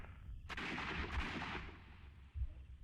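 Gunfire from the Sherlock Holmes: Crimes & Punishments video game: a sharp report with a broad hissing tail, a second shot about half a second later, then a low thud near the end, all without talk.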